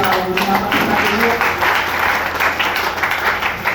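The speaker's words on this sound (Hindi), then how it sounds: "और एक जोड़ा तालियों से" Dense, continuous applause from an audience at a Hindi-speaking business meeting, a steady round of clapping that fills the whole short stretch.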